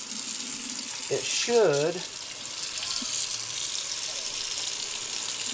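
Tap water runs steadily to rinse paint from the tip of a Wagner Flexio 4000 paint sprayer, a constant hiss with a brief rise in flow, while someone speaks briefly over it.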